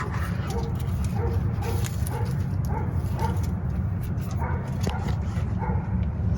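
A dog barks and yips in a garage, short repeated calls over steady loud background noise, with some indistinct talk mixed in.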